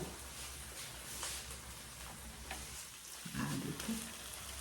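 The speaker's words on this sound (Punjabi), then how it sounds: "ਤੇ ਚਲੋ ਸੇਵ ਦਾ ਆਪਾਂ ਤੜਕਾ ਲਗਾਉਣਾ ਸ਼ੁਰੂ ਕਰਦੇ ਹਾਂ ਜੀ" Spices crackling in hot oil as a tadka is tempered for saag, a soft steady sizzle with occasional stirring scrapes and a brief louder burst near the end.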